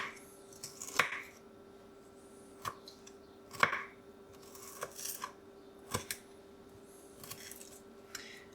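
Knife slicing bell peppers thinly on a cutting board for an omelet: several crisp, close cuts at irregular intervals over quiet room tone.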